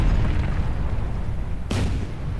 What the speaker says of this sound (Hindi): एक भयानक विस्फोट से कैरियर हिल जाता है, पूरे डेक पर आग लग जाती है